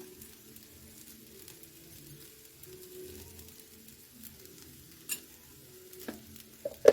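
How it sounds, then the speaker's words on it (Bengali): Spiced semolina (suji) is stirred in a pan with a quiet, steady scraping and faint sizzle, broken by a few sharper clicks near the end. "ভালো করে নাড়াতে হবে, মিক্স করে ফেলতে হবে"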